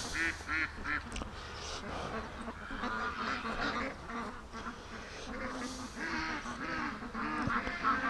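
Muscovy ducks on a free-range duck farm make a steady chorus of soft, breathy hissing and low chuffing calls, close by and continuous, with no other voices.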